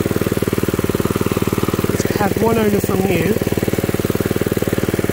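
A 1979 Mountfield M1 Monarch 5HP rotavator engine runs steadily right after its first start in over twenty years, a loud, even chugging putter close by while someone talks over it.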